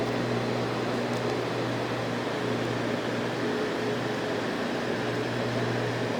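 Steady, even fan hum from a running Mini-ITX NTP server, a constant low drone with a faint tonal whine, unbroken and fairly quiet throughout.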